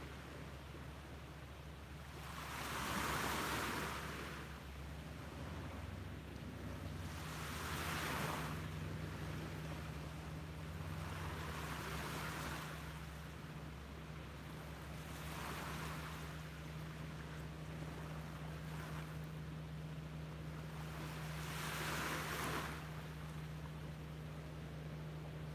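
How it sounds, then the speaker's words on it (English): Waves on a beach at sunrise surge and wash in slow, regular swells about every five seconds, with a steady low engine-like hum underneath. No voices. "Listen to the sound of those waves for one more minute"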